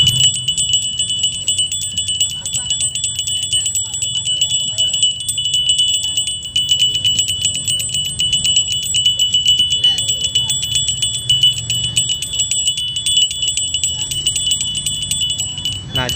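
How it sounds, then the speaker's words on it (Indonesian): A small brass cow bell rings steadily throughout, a bright sustained metallic tone with continuous jingling over a low rumble of background noise. "ini adalah jenis kelontongan atau lonceng"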